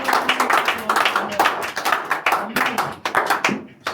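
A church congregation at a Cameroon mission gathering clapping in a rapid, rhythmic pattern, close and lively, with voices mixed in among the claps.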